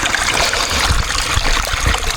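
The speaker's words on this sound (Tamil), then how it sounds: "இங்கே வந்து பார்த்திங்கன்னா தண்ணி கொஞ்சம் போயிட்டுருக்கு" Water flows in a forest stream with a steady, close rushing and trickling wash and no pauses.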